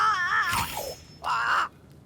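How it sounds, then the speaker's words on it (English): In the video game Banishers: Ghosts of New Eden, a crow gives two harsh, drawn-out caws close by with a brief pause between them, and no speech over them. "It's Ceridian, by way of the invisible, speaking through the crow."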